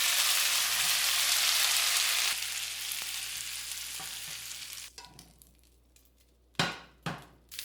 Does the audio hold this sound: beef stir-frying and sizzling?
yes